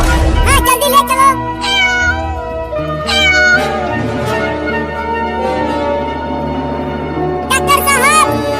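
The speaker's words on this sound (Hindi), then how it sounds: "लगता है ये इस बिल्ली का बच्चा है" A kitten hurt after being hit by a car on the road gives loud, high, repeated meows over a sustained tonal background, with some voices present.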